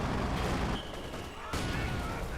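Company of Heroes 2 battle with an incendiary artillery barrage and gunfire, a dense, loud roar of explosions and shots that drops briefly mid-way, then surges again.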